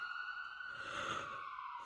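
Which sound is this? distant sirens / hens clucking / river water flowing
distant sirens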